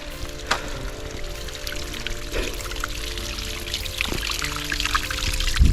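Water runs along a freshly dug, levelled earth channel toward trees outdoors, making a steady, close pouring trickle with occasional splashes and no talk.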